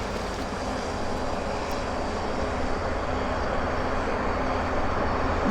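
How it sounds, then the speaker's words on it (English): A USAF heavy military jet arrives at Abbotsford airport, its engines a loud, steady broadband roar with a low rumble that holds unbroken throughout, no voices over it. "we lose the aircraft in the weeds here"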